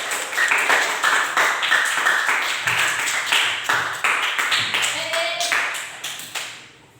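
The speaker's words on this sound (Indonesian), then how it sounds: "Oke, tepuk tangan dulu untuk si Arya kembali." Classroom applause from a group of students, a burst of rapid, uneven clapping that carries on steadily before tapering off at the end, with some faint voices mixed in.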